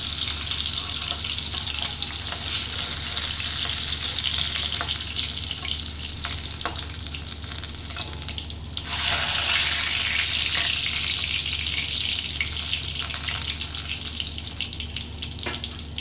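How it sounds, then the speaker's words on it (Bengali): Hilsa fish pieces fry slowly in oil, giving a dense, steady sizzle up close that swells slightly louder about halfway through, with faint scraping and no voices. "5 থেকে 7 মিনিট ধীরে ধীরে ফ্রাই করে নিচ্ছি আমি"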